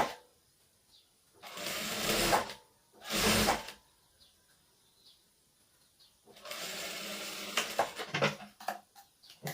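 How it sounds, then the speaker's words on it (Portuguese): A sewing machine backstitches through fabric and interfacing in short bursts: two quick whirring runs, a pause with faint handling noises, then a longer, steadier stretch of stitching. "Nós vamos dar um retrocesso aqui no começo."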